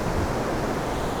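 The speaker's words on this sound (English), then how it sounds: "there was a big splat crashing wave over there" Ocean waves breaking on a shore near Tokyo, a loud, dense rushing wash of surf filling the whole moment, close and unbroken.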